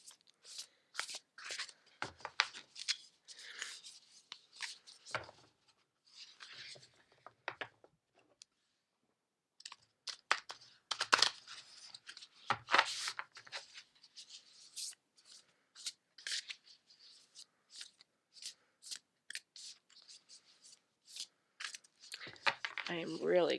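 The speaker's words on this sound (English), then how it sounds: "And I'm shuffling the deck now." Oracle cards being shuffled as a deck, with soft irregular riffles and slides coming in scattered bursts and brief pauses, close and quiet, a voice occasionally speaking over it.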